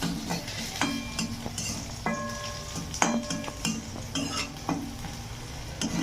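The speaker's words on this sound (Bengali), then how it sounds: "বাদামটা হালকা ফ্রাই করে" Peanuts lightly frying in a pan, a soft sizzle under repeated clinks and scrapes of a utensil against the pan, with a few brief ringing metallic tones.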